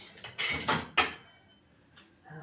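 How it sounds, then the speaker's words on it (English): A metal offset spatula spreads cake batter into a pan, making a few quick scrapes and clinks against the metal. The scrapes come close together, then fade to near quiet with a faint knock at the end. "Spread it into an even layer with an offset spatula."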